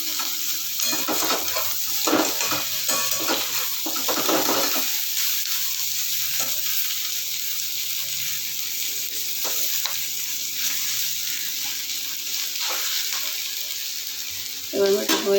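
Taro stolons (lati) frying in a pan, a constant close sizzle broken by scraping stirs and metallic spatula knocks, busiest early, with a sharper clank near the end.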